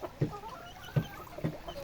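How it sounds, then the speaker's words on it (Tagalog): A chicken gives three soft, low clucks at an even pace, close by in a quiet outdoor setting. "Yung manok natin, kumaykay ng kumaykay."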